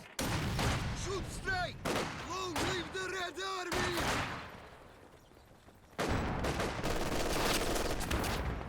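LMG Grenadiers unload loud machine-gun bursts in Company of Heroes 2, rapid rattling volleys that dip quieter briefly mid-clip before another dense burst of fire takes over.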